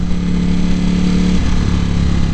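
A 2018 Ducati Panigale V4 drones steadily on a demo test ride, a loud, close, continuous engine tone with a slight pitch shift partway through and no talking.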